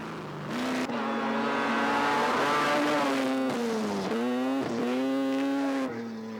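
Rally cars race hard at a rally sprint: a V8-powered Skoda and a rotary-powered Escort in a 1701cc Plus Classic class, with loud sustained engines rising and falling in pitch through gear changes and revs, close by and continuous.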